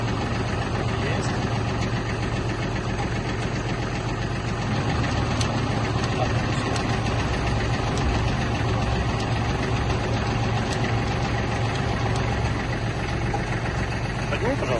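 The diesel engine of a Kubota L1-215 mini tractor runs steadily with its rotary tiller turning, a dense, continuous mechanical drone close by, with voices faintly underneath.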